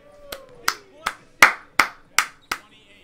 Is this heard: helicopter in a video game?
no